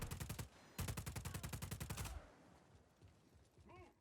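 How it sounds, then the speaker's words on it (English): Gunfire in Just Cause 4 rattles in two fast, loud automatic bursts of evenly spaced shots. Quieter game noise follows, with a short rising electronic tone near the end. "Who else is shooting at me?"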